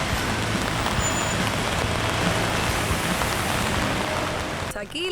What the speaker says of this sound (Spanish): Aquí la lluvia no para.